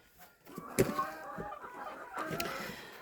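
A brooding hen, sitting on duck eggs, gives soft, low clucks in a farmyard, with a sharper cluck near the start. The calls are faint and close by, over a quiet background.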